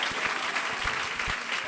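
A church congregation at a family worship service breaks into steady, lively applause, with overlapping claps filling the room for the full stretch.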